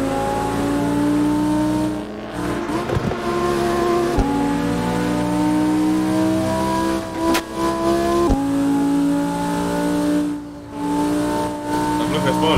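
A tuned car in Assetto Corsa, driven on a route with traffic, revs hard and climbs through gear changes with a loud, close engine note and brief dips between shifts, while voices talk over it.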